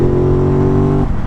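An Aprilia RS660 motorcycle, A2 version, gives a loud, close, steady engine drone with a strong harmonic tone that holds, then drops off sharply as the throttle closes near the end.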